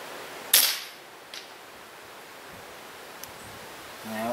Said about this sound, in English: I'm gonna aim very high on this first shot and see if I can walk the shots down.